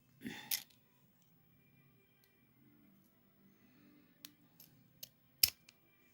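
Scissors snipping a Color Street nail wrap strip, a few quiet, close, separate cuts and small clicks spaced out against near silence.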